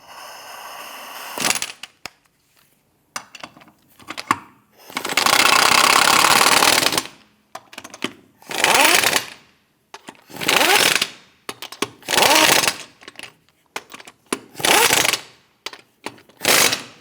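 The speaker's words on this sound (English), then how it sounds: "Once you have them all started, go ahead and snug them down." Lug nuts are snugged down on a car wheel during an ABS wheel speed sensor job on a 2008-2013 Nissan Rogue. A power tool fires in about eight loud, separate bursts split by short pauses.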